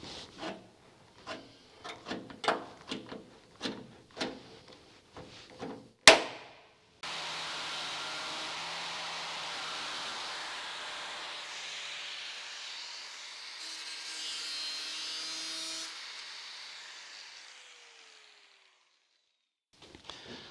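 A cutting wheel slices through a rusty steel door panel: a run of short scraping bursts comes first, then a sharp crack, then one steady, sustained grinding whine of about nine seconds, up close and without talk.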